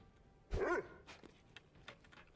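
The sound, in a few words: dog barking in the video game Necromunda: Hired Gun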